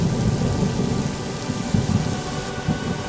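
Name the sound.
thunder from a mountain storm in the Dolomites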